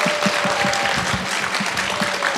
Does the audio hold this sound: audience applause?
yes